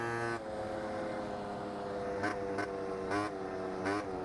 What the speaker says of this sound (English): I feel so bad for this motor with the blowing exhaust